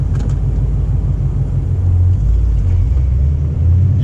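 A Ford Mustang GT Bullitt with a manual gearbox gets a little gas, its engine giving a loud, steady low rumble close by that swells slightly, with no voices over it.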